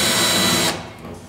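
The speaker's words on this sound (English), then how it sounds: "I'll just put some sandpaper on a drill bit" A power drill spins a bit wrapped in sandpaper to enlarge a slightly undersized hole while fitting a water pump on an off-road trailer; a loud close whirring grind stops abruptly after under a second.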